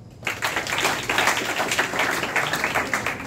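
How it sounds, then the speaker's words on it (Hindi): Classroom applause for a student at an engineering institute youth motivation session, a dense burst of many hands clapping that starts abruptly and holds steady for about three seconds. "उसके लिए तालियां बजाओ।"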